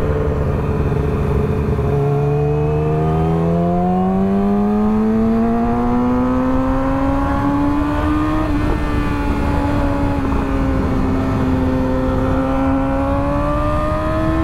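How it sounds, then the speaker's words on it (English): Motorcycle ridden steadily after fitting a new chain, its engine note loud and close, rising slowly through the gears with a smooth continuous drone and harmonic whine, no talking over it. "This bike feels like a completely different motorcycle now because of that new chain."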